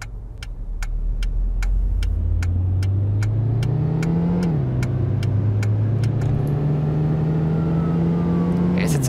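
A Cadillac Escalade's engine in the City Car Driving simulator hums and climbs through gears, revs rising, dipping at a shift, then rising again, steady and close, while a faint repeating tick sounds above it.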